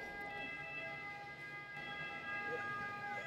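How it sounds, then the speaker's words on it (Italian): An ambulance siren sounds in the background of an Italian lecture hall, steady tonal wailing held at a moderate distance beneath a faint voice. "lascio passare l'ambulanza"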